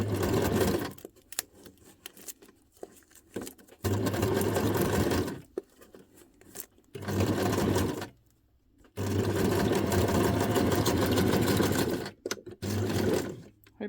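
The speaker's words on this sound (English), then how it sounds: "So when I do this by myself, I can just keep sewing without stopping" Sewing machine stitching scrap paper ruffles, running in loud steady bursts of several seconds separated by brief pauses, close up with no talking.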